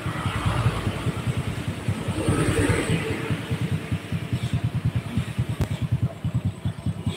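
A Honda Supra 125 motorcycle with a clutch problem runs close by, its engine held at a steady rev with a fast, even putter and mechanical clatter throughout.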